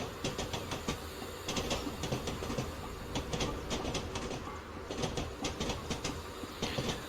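A BR Black 5 steam locomotive coasts on rails in Train Simulator Classic between Falmouth and Truro, with a steady rolling rumble and repeated clicking wheel beats at a moderate level.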